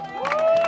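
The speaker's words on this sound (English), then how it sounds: "Come on, give them a cheer." Crowd cheering and shouting encouragement for children running through a tunnel at a Christmas fun run, a loud, swelling burst of voices close by.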